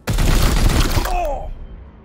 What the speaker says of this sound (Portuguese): Vamos dar um tiro.